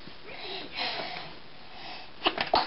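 A small child's sneeze, a quick sharp burst near the end after a stretch of soft breathing and background noise.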